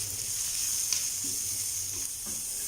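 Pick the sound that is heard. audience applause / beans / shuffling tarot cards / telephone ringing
beans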